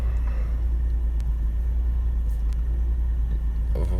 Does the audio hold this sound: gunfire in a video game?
no